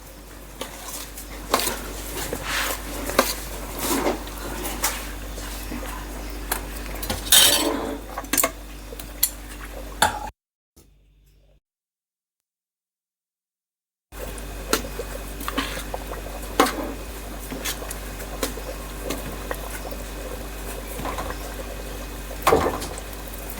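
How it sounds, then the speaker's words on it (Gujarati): Kuriya frying in oil in a pan on a low gas flame for a sour pickle makes a soft, steady crackling sizzle with occasional utensil clinks, broken by a few seconds of silence midway. "હવે થોડો થોડો તળાવા માંડ્યું છે કુરિયા અને સુગંધ આવવા માંડી છે."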